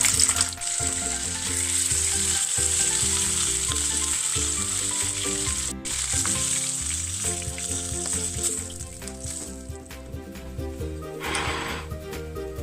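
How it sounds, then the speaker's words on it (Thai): A fish fries skin-side down in a hot pan, giving a steady, loud, close sizzle that fades slightly toward the end. "ถ้าใครทอดปลา ต้องก็เอาหนังลงไปก่อนนะคะ ประมาณสองนาที"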